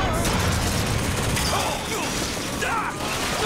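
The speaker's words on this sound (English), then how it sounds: "Who the fuck's shooting" Gunfire and mechanical clatter in the first-person shooter Bioshock Infinite, a loud dense burst of shots and impacts over a noisy background.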